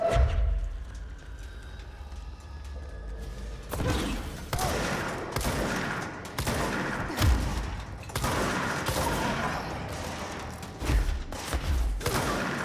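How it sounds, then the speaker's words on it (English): Heavy booms and sharp blasts in the video game Control, after a quieter opening, then a string of loud, close impacts and explosions spread unevenly across the rest, with no talking over them. "I don't know why that exploded and it didn't hit me"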